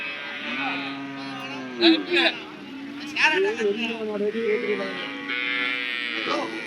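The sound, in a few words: cattle mooing at a livestock market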